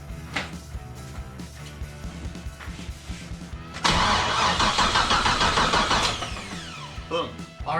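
A V6-to-V8 swapped F-Body Camaro cranking with a choppy rhythmic starter whir, then catching and firing into a loud, roaring idle that settles slightly, recorded up close.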